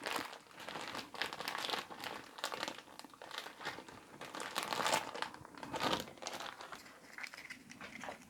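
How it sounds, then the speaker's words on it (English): A plastic bag used as a makeshift piping bag crinkles and rustles in close, irregular bursts as it is handled, fairly quiet, with no talking. "So when you don't have a piping bag, you use a plastic bag."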